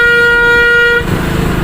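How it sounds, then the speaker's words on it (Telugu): A motorbike horn blares loud and steady for about a second, then cuts to engine and road noise. "నా హారన్"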